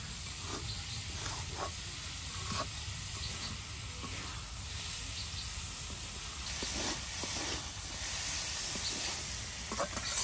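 Bottle gourd cooks in a pot on a traditional clay stove in a village kitchen, giving a faint, steady sizzle and hiss that runs the whole time, with soft clinks now and then.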